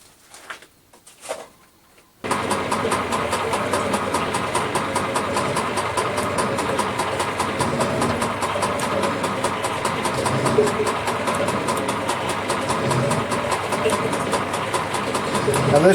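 A metal shaper cuts a chamfer with its head tilted to 35 degrees, a steady, loud mechanical running noise with a rhythmic knocking stroke after brief quiet handling sounds at the start.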